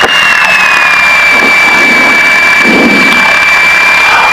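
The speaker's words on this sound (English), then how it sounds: "Number 2 engine start." Right engine of a Piper Seneca twin propeller aircraft running up during start, a loud steady mechanical drone with a high whine held throughout, heard from inside the cockpit with no talk.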